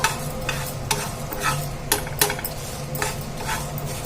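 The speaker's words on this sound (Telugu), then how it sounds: "ఇది కూడా మంచిగా వేగాలి మినపప్పు అన్నీ వేగాలన్నమాట" Urad dal being dry-roasted in a pan for a flax seed powder, a steady close sizzle with regular scraping strokes of a spoon against the pan.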